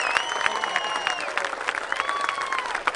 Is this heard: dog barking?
no